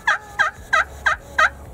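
Wild turkey gobbling during a Michigan spring hunt, five evenly spaced bursts about every third of a second, clear and moderately close, with no talk over them.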